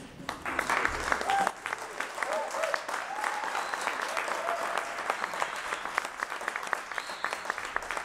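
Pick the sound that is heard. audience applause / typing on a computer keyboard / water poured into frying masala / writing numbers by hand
audience applause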